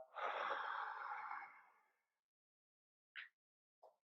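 One long, deep exhale through the mouth fills about two seconds, close and soft, then silence broken by two brief quiet breath or movement sounds.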